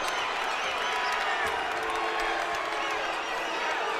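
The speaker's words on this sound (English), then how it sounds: "Every guy on the team is up clapping." A basketball crowd at a college game between Western Kentucky and New Mexico State fills an arena with dense, continuous applause, cheering and clapping, loud and sustained throughout, with a commentator's voice faintly present beneath the roar.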